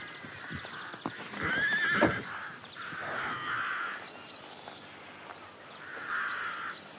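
A horse whinnies loudly in several drawn-out bursts with short pauses between, fairly close, with no voices.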